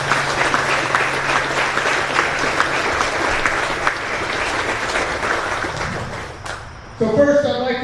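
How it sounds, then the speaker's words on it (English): An outdoor crowd at a military change of command ceremony for the 428th Field Artillery Brigade gives a sustained round of applause that fades out over several seconds before a voice begins speaking. "Join me in a round of applause."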